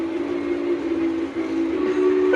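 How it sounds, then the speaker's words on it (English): A steady, fairly loud quilling whistle from a Lionel LionChief model train sounds for a couple of seconds, its pitch wavering slightly as it quills, with no voices. "it even has a quilling whistle feature on it."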